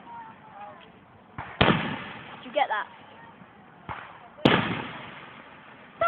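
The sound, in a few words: carnival fireworks exploding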